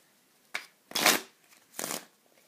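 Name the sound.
shuffling a deck of orange Bicycle playing cards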